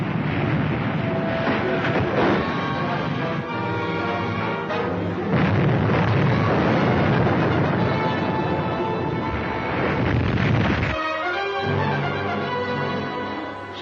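Naval guns firing aboard a warship in a 1942 serial, a dense roar of repeated heavy booms layered over constant rumbling music-like tones, loud throughout with a brief lull near the end.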